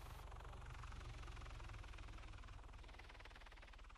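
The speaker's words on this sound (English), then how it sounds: "Chopper." A helicopter in the video game Arma 3 thunders with a steady, close rotor thump and engine roar that stays loud and continuous throughout.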